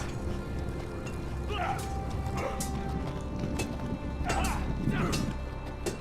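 Horse hooves clip-clop in a steady, moderately paced rhythm in a game setting in the Game of Thrones series, heard at middle distance under a low ambient bed, with brief voice-like cries layered over the hoofbeats.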